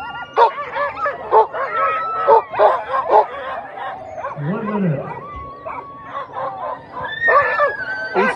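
Sled dogs at the start of a championship race bark and yip excitedly in a dense, overlapping chorus close by, with a commentator's voice talking over part of it.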